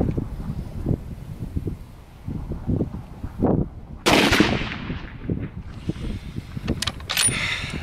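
A single sharp report from a Savage Axis 2 Precision rifle being sighted in outdoors cracks out midway, ringing briefly over a bed of wind buffeting and low rustling, with no voices.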